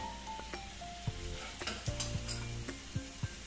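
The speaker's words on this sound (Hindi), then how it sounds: "इनको भी हम अच्छे से भून लेंगे, सारी चीज़ों को अच्छे से घुमा लेंगे" Salt and black pepper frying in a pan for a penne arrabbiata red sauce, a soft continuous sizzle with intermittent spoon scrapes and taps against the pan over background music.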